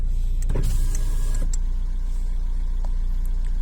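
Electric windows on a diesel Fiat Panda whirring as they wind down, a steady motor drone from about half a second to one and a half seconds inside the quiet car, with no talking.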